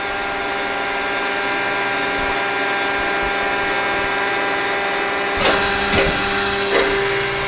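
A 200-ton Sutherland four-post hydraulic press in excellent condition runs with a steady pump hum and whine, then several sharp clanks and thumps near the end as the stroke completes.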